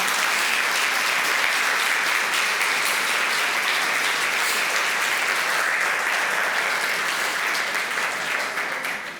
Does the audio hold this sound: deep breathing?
no